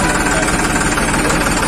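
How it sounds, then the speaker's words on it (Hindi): A tractor engine runs steadily at close range, a loud continuous mechanical hum with a fine rapid knock of firing pulses and no breaks or surges. "आवाज भी एकदम है ना ट्रैक्टर की, मतलब स्मूथ फायरिंग है।"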